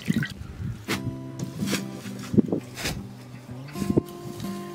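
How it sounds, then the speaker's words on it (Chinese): Washed coriander drains in a sieve, with close drips and small wet squishes scattered irregularly over a few seconds. "放在筛筛里面控水。"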